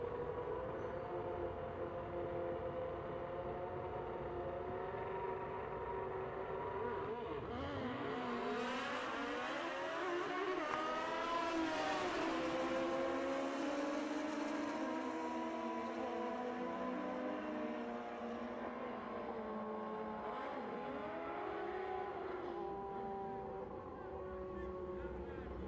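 A 2002 Suzuki Hayabusa making a drag race run at a packed Fuel Tech World Finals, with high-revving engines rising and sweeping in pitch as bikes launch and pass, heard from a distance under crowd noise and an announcer's voice.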